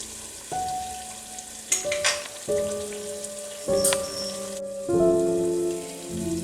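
Balushahi frying in oil on medium high heat: a steady close sizzle with soft crackles and bubbling, overlaid by a few sustained tonal hums, with no talking.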